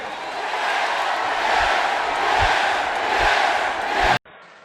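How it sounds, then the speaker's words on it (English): Wrestling arena crowd roaring and chanting together in a loud, sustained swell with rhythmic low thumps, cutting off abruptly near the end to quieter room noise. "if I could just get one last yes chant"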